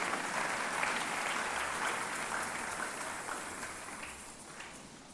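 A church congregation claps for friends, a dense patter of applause that is loudest at first and slowly fades, heard at a moderate distance.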